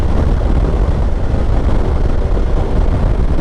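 Kawasaki H2 Carbon Edition with an inline-four engine, its exhaust giving a loud, steady, dense low roar that holds unbroken and close for the whole stretch with no pauses.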